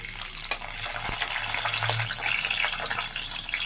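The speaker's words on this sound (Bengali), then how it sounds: "রসুনের সাথে আমি শুকনা মরিচও ভাজে নেবো একসঙ্গে" Garlic and dried chillies fry in hot oil in a wok, a steady bright sizzle with faint clinks of stirring, close and continuous.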